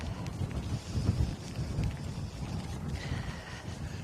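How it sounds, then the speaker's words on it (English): Outdoor wind in Alaska buffeting a microphone, a steady low rumble that swells and fades continuously throughout, with no voices over it. "It's a little windy."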